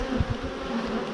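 Honey bees drone in a close, steady buzz around frames lifted from a hive during a split, with a couple of soft thumps near the start.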